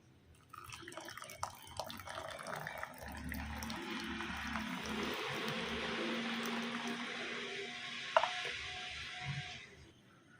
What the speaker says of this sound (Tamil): இப்போ இந்த கொள்ளு தண்ணியை கொஞ்சம் ரசத்துக்கு ஊற்றிக்கலாம்.